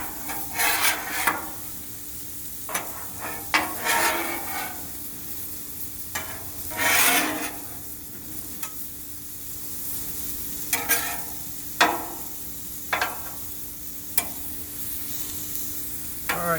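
Food sizzles on a hot Blackstone 36 Pro series griddle, with a steady frying hiss broken by repeated scraping and stirring strokes of a spatula, close and fairly loud, with no one talking.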